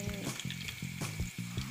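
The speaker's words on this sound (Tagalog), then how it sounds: "meron pa tayo natirang manok na kailangan natin i-prito yan guys" Chicken frying in a pan, a steady close sizzle with crackling pops and occasional stirring, with no talk over it.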